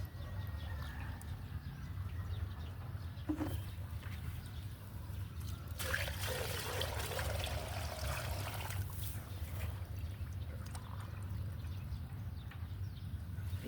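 Water trickling into a rice paddy field, a soft continuous flowing and dribbling sound, fairly quiet, with a brief louder splashing burst partway through and no talk.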